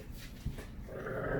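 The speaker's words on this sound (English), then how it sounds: "now my dogs are gonna act crazy" Pet dogs growling and panting in a home during a planner setup, short close rough growls and breathy pants, fairly soft, with no talking.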